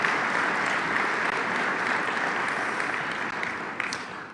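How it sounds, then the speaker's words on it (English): An audience claps at a State of the City 2022 civic address, a dense, steady wash of applause that holds loud and even for several seconds before easing slightly, with no speech over it. "give them a round of applause"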